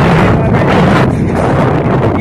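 Steady wind gusting across a rural hillside farm, roaring continuously against the microphone with a rough low rumble and hiss that never lets up.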